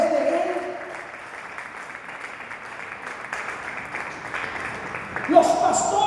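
A church congregation in Celaya, Mexico breaks into sustained applause, a dense wash of many hands clapping that swells toward the end, with a preacher's voice at the start and finish.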